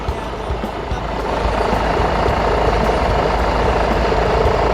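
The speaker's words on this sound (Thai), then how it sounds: "เครื่องสตาร์ทนิ่งเลยนะฮะ" A Hyundai H1 van engine idles with a steady low rumble and vibration, constant and close, no voices.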